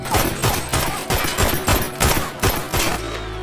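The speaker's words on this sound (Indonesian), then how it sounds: "Dan untuk pertama kalinya tembakan Luke meleset saat hendak membunuh anak kecil." A rapid burst of film gunfire, several shots in quick succession with sharp, loud cracks over a busy, dramatic background.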